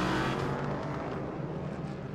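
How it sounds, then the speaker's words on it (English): A GTE Pro race car at the 6 Hours of Mexico roars past close by, a loud sustained engine note that fades slightly as it moves away. "Here's the GTE Pro leader, still the 95"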